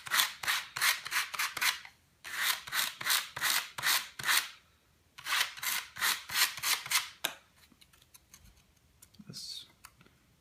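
Sandpaper is rubbed over a roughly cut piece of wood in fast back-and-forth strokes. The strokes come in three loud rhythmic runs, then fade to lighter, scattered scratching.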